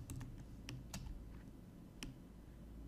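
Keystrokes on a computer keyboard as a search term is typed, a handful of sharp clicks in quick irregular bursts, fairly close and quiet over a low steady hum, no voices.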